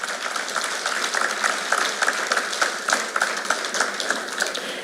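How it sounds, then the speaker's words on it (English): Audience applause at a high school sports awards ceremony, steady dense clapping from a crowd sustained for about five seconds at moderate level with no voices. "So we'll give them a round of applause before we go."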